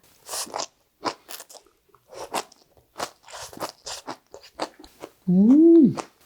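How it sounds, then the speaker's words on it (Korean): Crisp crunching bites and chewing of seasoned bean sprouts, close to the microphone, in irregular bursts, ending with a brief hum-like vocal sound of enjoyment. "달짝지근하니 아삭아삭하니 너무 맛있어요"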